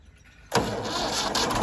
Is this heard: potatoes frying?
no